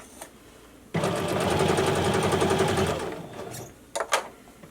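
A sewing machine stitches face mask fabric in one fast, even burst of rapid needle chatter lasting about two seconds, close and loud, followed by a few faint clicks and handling knocks.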